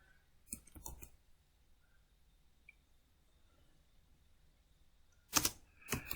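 Keystrokes on a computer keyboard sound as two short bursts of quiet clicks, one near the start and one near the end, with near silence between them.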